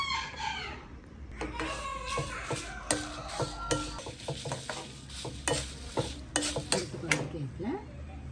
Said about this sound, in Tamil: இதில் மிளகாயை வறுக்க போகிறோம்